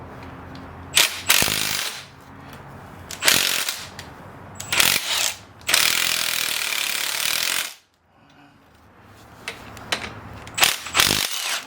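A spring compressor is released on a front strut from a 2014–2020 Ford F150, heard as loud, close bursts of a whirring power tool. The bursts start and stop repeatedly, including one sustained run of about two seconds, with short quiet pauses between them.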